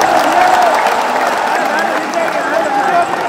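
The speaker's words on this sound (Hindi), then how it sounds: "खुद ताली बजा लो अपने हाथों से।" A large crowd at an outdoor religious gathering claps hands together in a dense, continuous wash of applause that holds steady throughout, with a background voice faintly present.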